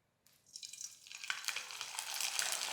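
Kurdai, a crisp wheat fryum, drops into hot oil and erupts into a bright, steady sizzle that grows denser and louder over a few seconds, close up and with no voices.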